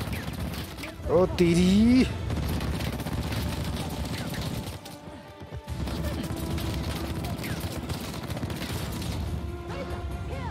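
Rapid bursts of gunfire in an Indian video game, a dense crackling volley that runs on under a man's excited exclamations, with a sharp loud whoop early and an almost continuous rattle afterwards.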